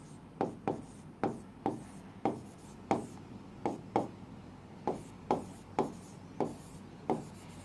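Chalk or marker strokes on a classroom board during a maths lecture: a regular series of short, sharp scratchy taps, about two per second, close and clear with no talking.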